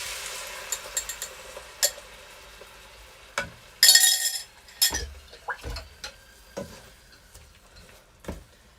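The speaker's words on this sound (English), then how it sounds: "And then I'm going to add my teriyaki sauce." Teriyaki sauce goes into a hot pan with salmon noodles and sizzles, while a utensil knocks and scrapes against the pan in irregular close clatters and a loud burst of sizzle in the middle.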